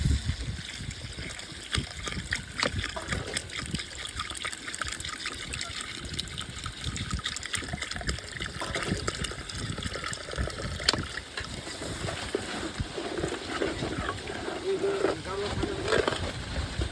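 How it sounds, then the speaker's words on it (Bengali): Water is poured into a pot of fried rice, lentils and sautéed vegetables for khichuri, a sustained gushing trickle close by that runs the whole time, with indistinct voices in the background. "আমরা এখন পানিটা দিয়ে দেবো।"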